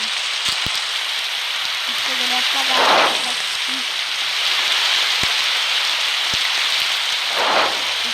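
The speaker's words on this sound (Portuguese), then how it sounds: "E agora tá chovendo." Steady rain hisses continuously in the video game 99 Nights in the Forest, a dense wash with occasional soft swells and clicks, while a voice talks over it.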